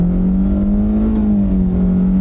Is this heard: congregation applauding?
no